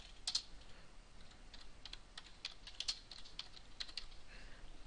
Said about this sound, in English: And then you're just kind of clicking, setting your leader, and then typing in whatever that information is.